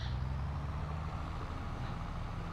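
A tractor engine in Farming Simulator 22 drones at a steady throttle, a low continuous rumble with a faint whine above it and no talk.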